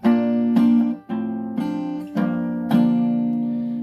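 Acoustic guitar chords strummed lightly, about five shallow strums in a slow, even rhythm, each ringing out clearly before the next.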